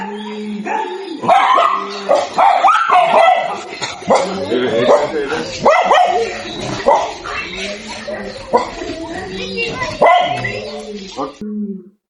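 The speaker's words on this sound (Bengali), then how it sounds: "Hey, doggy. নাম কি তোমার টমি" A dog at a garden house in Satkhira barks and yips repeatedly at close range, with whimpering and short howl-like calls between the barks while people talk over it.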